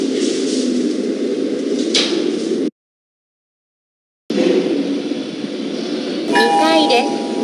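Doors of a Japanese Mitsubishi GPS-III elevator sliding shut: a steady broadband whoosh of moving doors, a brief silence, then more rumbling motion with a short chime-like tone near the end.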